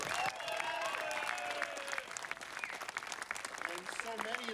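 A premiere audience applauds and cheers, a dense, continuous wash of clapping with whoops and shouts rising over it, loud and sustained throughout.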